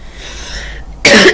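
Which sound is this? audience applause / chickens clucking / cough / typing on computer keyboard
cough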